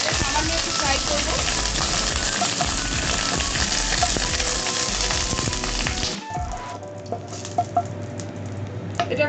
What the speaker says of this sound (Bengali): শুকনো লঙ্কাটা আমি দিয়ে দিলাম, সামান্য একটু ফ্রাই করবো।